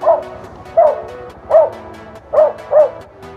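A dog on a street at night barks five times in short, loud, close bursts, the last two coming quickly together, with quiet pauses between them.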